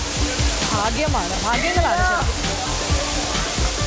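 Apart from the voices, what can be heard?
Sirimane waterfall near Sringeri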